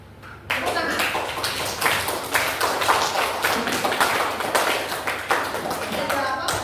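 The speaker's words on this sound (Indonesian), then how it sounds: "Tepuk tangan." A classroom group claps hands together after a lesson on Indonesian national values, a dense run of overlapping claps at close range with some voices mixed in.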